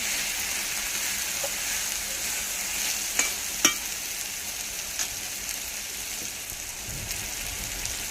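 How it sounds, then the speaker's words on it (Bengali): Potatoes and carrots stirred and fried in oil while the water cooks off, a soft continuous sizzle with a few sharp spatula clinks and scrapes against the pan. "আলু আর গাজরটা দিয়ে আমি ভালো করে নেড়ে নিয়েছি"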